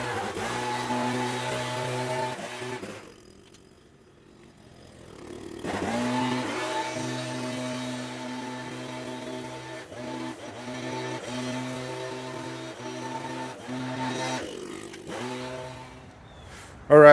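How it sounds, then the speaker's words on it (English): A leaf blower clears leaves off a 1963 Ford Falcon with a droning engine hum. It cuts out for a few seconds, then returns and wavers in pitch, closing with a sharp rev. "Alright, so just finished leaf blowing"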